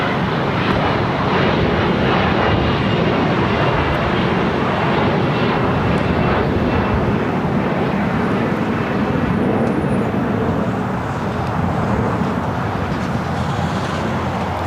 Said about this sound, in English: That flight taking off, United Express, SkyWest flight 5844 heading to Austin, Texas